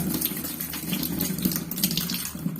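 Water runs continuously from a tap as a tap filter is rinsed while being scrubbed with a toothbrush, a steady close hiss with faint scrubbing ticks throughout.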